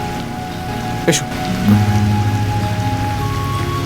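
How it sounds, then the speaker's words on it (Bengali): Heavy rain pours steadily outdoors in a Bengali drama scene, a constant hiss with a brief louder burst; a short spoken word and a low hum sit beneath the downpour. "খুব জোরে বৃষ্টি হচ্ছে"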